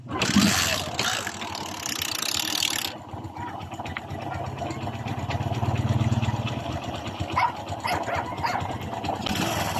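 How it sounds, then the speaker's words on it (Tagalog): Kawasaki Bajaj CT 100 motorcycle engine running with the clutch not pulled, a knocking rhythm over a steady mechanical idle, close and fairly loud, with a dog barking early on. "may lagotok sa kanyang makina guys"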